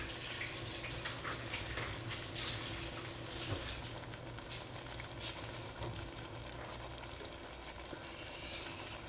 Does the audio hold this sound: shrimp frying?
yes